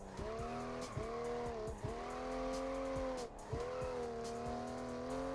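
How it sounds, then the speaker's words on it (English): Engine of a drifting car in a racing video game, set in traffic, roaring steadily with repeated pitch drops and tire squeals that rise and fade across the run; no talking. "We gotta get a little drift going."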